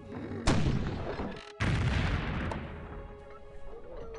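Cannon fire in Civilization III: a sharp booming blast with a rumbling tail, a short gap, then a second heavy report that decays slowly, loud and unaccompanied by talk.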